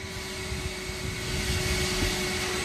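A vacuum cleaner drones steadily while cleaning black carpet in a car interior, a loud continuous whine with a strong tonal hum that swells slightly as the nozzle moves.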